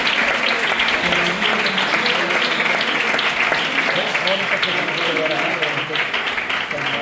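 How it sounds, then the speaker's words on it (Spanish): A church congregation applauds together in a long, steady burst of clapping that fills the room, with voices calling out loosely underneath. "Le damos un aplauso al Señor"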